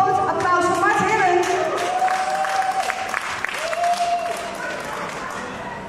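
A small acoustic concert audience gives a singer a warm round of applause, the clapping steady at first and then thinning, while voices and a few ringing tones sit underneath.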